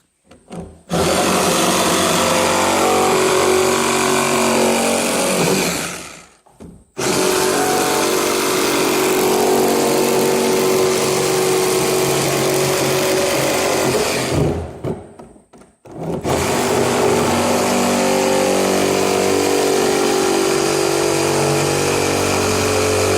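A cordless reciprocating hacksaw cuts through a barrel in two long, loud, continuous buzzing runs, each stopping briefly before the blade starts up again, close and harsh.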